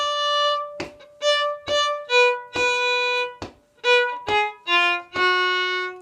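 A violin plays one line of a hornpipe trio, a clear run of separate bowed notes climbing and falling in a lively, even rhythm, close and alone.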